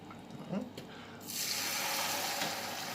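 Salt fish fritter batter meets a hot pan with a sudden rising sizzle that swells and holds steady, following a few soft spoon clinks and muffled movement near the start.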